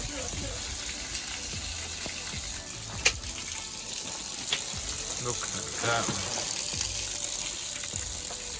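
Water pours out of a 200-litre fish tank holed by a longbow arrow, a steady splashing gush with a sharp crack near the start, while someone speaks briefly.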